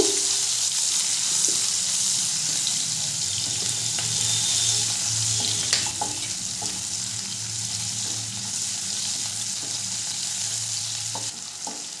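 Chopped onion fries in a pan for a mustard-poppy bata fish curry, a steady close sizzle with occasional stirring clicks and faint running-water sounds, no talk.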